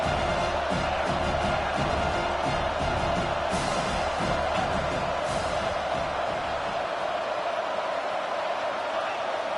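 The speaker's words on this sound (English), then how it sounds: "Big 3rd down as the crowd gets behind this defense." Stadium crowd roaring steadily behind the defense on a big third down in the college football video game CFB25, Oklahoma vs Miami, a dense continuous wash of noise with a commentator's voice over it.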